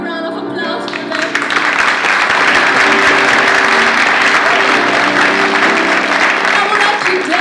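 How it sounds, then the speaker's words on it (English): Sustained audience applause fills a student-association live event, starting after a brief quieter moment and holding loud and dense throughout, with some cheering and voices mixed into the clapping. "So everyone give a big round of applause for them."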